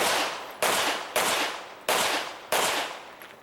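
Five sharp pistol shots at an IDPA shooting match at Mecklenburg Wildlife Club, fired in a quick, evenly spaced string, each crack loud and close with a short decaying tail.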